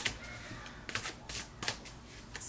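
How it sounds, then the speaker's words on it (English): Tarot cards are shuffled by hand in a quiet room, a run of soft riffling bursts and crisp slaps that repeat in an uneven rhythm, close and fairly faint, with no talk. "let's keep shuffling here"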